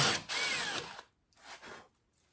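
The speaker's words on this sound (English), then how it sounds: "Saw that color change in the wood, tells me I was drilling into the plywood backer." A power drill bores through wood and into a plywood backer while building a simple toolbox, a close, loud grinding whine that runs for about a second, then two shorter, quieter bursts of drilling.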